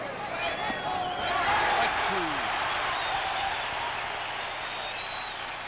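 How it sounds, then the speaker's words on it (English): Crowd noise at Fenway Park during Game 6 of the 1975 World Series between the Reds and Red Sox, a broad sustained roar that swells and stays loud throughout, with a commentator's voice faintly underneath. "And this crowd, a crowd that was spent, has come to life."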